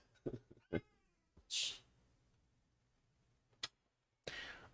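A cat meows a few times in short, scattered calls amid sparse sharp clicks and hissy bursts, close and fairly quiet with pauses between.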